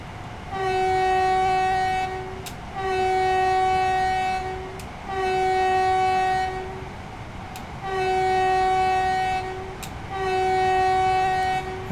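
A fast local train in Train Sim World 4 sounds its horn in five long, loud blasts separated by short gaps, each with a sharp click, over a low rumble of running on the rails.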